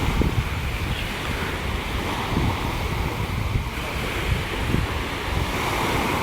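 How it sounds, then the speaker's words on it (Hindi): Strong wind gusts past the microphone on a riverbank by Renggit village in Malaysia, a dense continuous roar with rumbling buffets and a surf-like wash running throughout, no speech heard. "हवा तकरीबन अच्छी खासी है"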